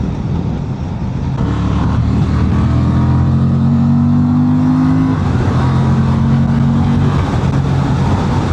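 2025 Honda Transalp motorcycle accelerating hard on a road, a loud, steady engine drone with rising tones through the gears over heavy wind rush, close and continuous.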